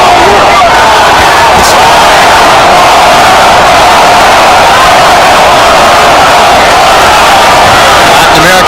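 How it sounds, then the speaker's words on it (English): A loud arena crowd at the Mayweather versus Vargas boxing match chants and roars steadily, a dense continuous wall of voices with no break. "Latin American segment of the crowd chanting Goyo, Goyo, Goyo"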